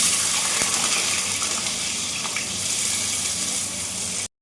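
Potatoes fry in hot oil with mustard seeds, giving a loud, steady, hissing sizzle that lasts throughout and then cuts off abruptly.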